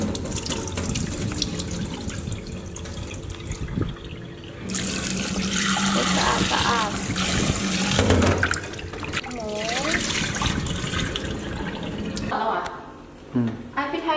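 Pork being washed with salt under a running kitchen tap, a steady gush of water into a sink with splashing and handling noises, while a person talks over it.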